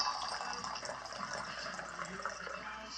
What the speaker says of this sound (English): Maybe if I pour it from up here. Get some splashing going, maybe?